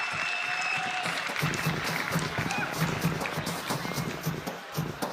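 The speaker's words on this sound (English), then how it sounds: "Come on, give him a round of applause." A crowd applauds a player with steady, dense clapping that fills the whole stretch, while a voice talks over it.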